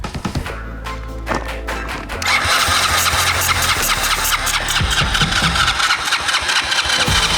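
A vehicle engine cranks over loudly and close in a shop, a rapid rhythmic churning that grows heavier after a couple of seconds and keeps going without clearly catching.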